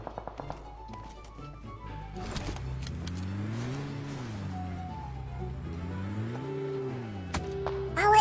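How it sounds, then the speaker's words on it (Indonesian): A motorcycle engine in PUBG Mobile hums low and steady, its pitch rising and falling twice as it revs, with sharp gunshot-like pops scattered at the start and end. "Ada suara motor kayaknya."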